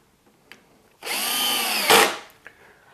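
Power drill driving a square drive screw into a wooden workbench, a short loud whirring burst of about a second that ends in a brief harsher surge, with light taps before and after and no talking.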